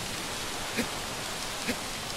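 Rain falling in Shadow of the Colossus, a steady soft hiss of dense drizzle throughout, faint and even, with two brief soft ticks standing out briefly.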